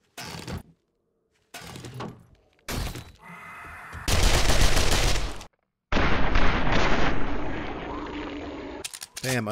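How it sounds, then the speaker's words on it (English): Weapon fire in the zombie survival game 7 Days To Die, Alpha 18, comes as sharp bursts and clattering volleys separated by gaps, with one long sustained roar of shots and a final crackling burst. "Could be the fact that I keep firing this weapon, though."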